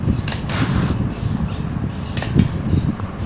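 A door creaks with repeated short groans and knocks, close and fairly loud, with no talking over it.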